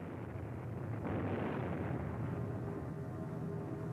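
Archival B-52 bombing of Hanoi during the December 1972 Christmas bombings rumbles as a continuous, dense low roar of distant explosions, steady and heavy throughout with a slight swell partway.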